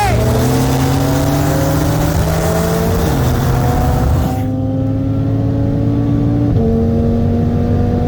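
A 2018 Mercedes C63 S AMG with bolt-ons on E30 and a 2018 Audi RS3 with full bolt-ons on E85 pull hard in third gear, a loud, rising engine drone heard from inside a car, with a gear shift partway and wind roar.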